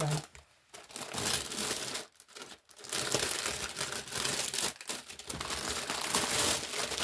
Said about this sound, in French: je voulais me dépêcher de déballer ce colis pour vérifier l'état de la toile